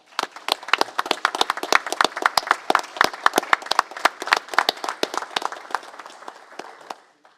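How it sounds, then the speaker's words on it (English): A city commission meeting audience gives EMS staff a round of applause, dense irregular clapping from a small group, loud and near, tapering off and stopping just before the end. "Let's begin by giving these folks a round of applause."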